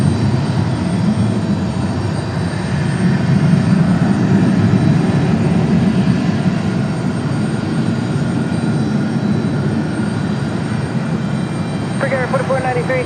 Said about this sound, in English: There's our Aer Lingus coming out from behind the trees.